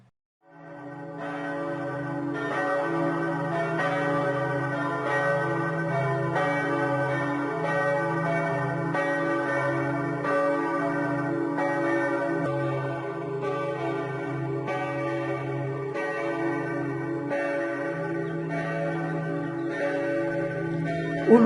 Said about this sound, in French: Écoutons l'une des 31 cloches de la basilique, peut-être celle qui pèse 5 tonnes.